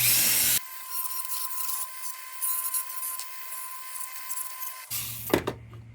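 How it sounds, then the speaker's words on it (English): A steady high-pitched grinding whine from a small rotary sanding disc flattening metal ends on an Embury Midget vehicle lamp, running continuously for several seconds before stopping, with a brief clatter at the end. "we'll get a little sanding disc and flatten those little ends out"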